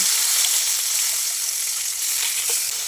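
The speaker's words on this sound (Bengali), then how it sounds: "বাকি মাছগুলো ভেজে নেব।" Koi fish frying in hot oil, a steady loud sizzle with fine crackling that holds close and even throughout, with no voices.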